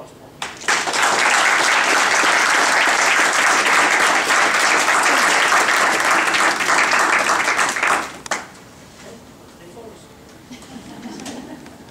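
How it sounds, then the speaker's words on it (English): An audience at a commissioning ceremony breaks into loud, sustained applause that lasts about seven seconds and then stops abruptly, giving way to quiet talking nearby. "it's one last round of applause for them."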